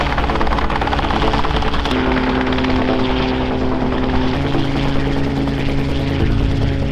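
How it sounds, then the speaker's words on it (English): A Rotorway two-seater turbocharged kit-built personal helicopter flies nearby, its loud, steady engine and rotor drone filling the whole stretch without a pause. "We speak with Joel Amick, who built his very own personal helicopter."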